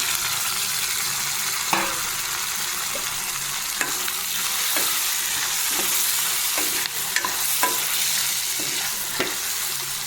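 Onion and tomato pieces fry in oil for a dry fish curry, giving a continuous loud sizzle throughout with scattered spoon scrapes and taps as the pan is stirred.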